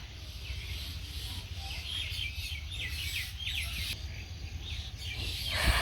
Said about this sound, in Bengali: তো আর এই যে সন্ধ্যাবেলা পাখির কিচিরমিচির শব্দ